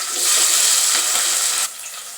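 Green chillies dropped into hot oil with mustard seeds, giving a loud, steady hiss of sizzling frying up close that eases off near the end.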